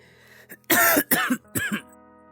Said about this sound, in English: Had to clear my throat there for a second